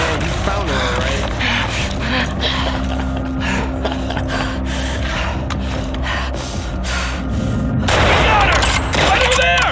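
Gunfire in The Last of Us Part II, a rapid sequence of sharp shots and bursts from the game with dense action noise, heavy breathing and gasps layered on top.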